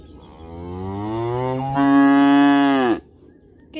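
A miniature goat being milked with a milking machine lets out one long, loud, close call that slides upward in pitch, swells, and then cuts off sharply, followed by quiet.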